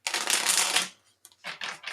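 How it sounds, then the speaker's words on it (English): Loud riffling of a deck of tarot cards being shuffled close by, one long burst followed by a pause and two shorter bursts. "my shuffling's loud"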